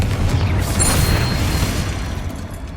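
A Confringo blasting spell goes off in Hogwarts Legacy, one loud booming burst with a bright crackling flash that rumbles and fades over a couple of seconds.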